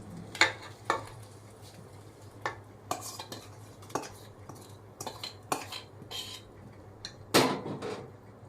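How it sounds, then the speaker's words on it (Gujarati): A spoon clinks and scrapes against a metal pot in scattered bursts as hot tempering is mixed into handvo batter, with a faint sizzle between the knocks. "વઘાર અંદર રેડવાનું."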